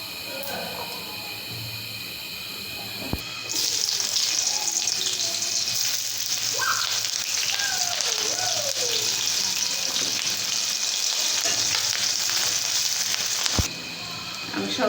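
Eggplant chorchori frying in a pan with chili and turmeric, a steady broadband sizzle that jumps louder around the third second and holds evenly before dropping near the end.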